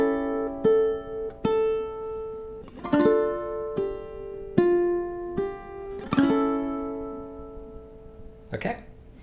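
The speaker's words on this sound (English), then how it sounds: "So bar 9 through 12 sounds like this." Fingerstyle ukulele playing bars 9 to 12 of Aura Lee, plucked notes and soft chords ringing one after another at a slow, even pace, close and clear, with a brief strum and handling noise at the end.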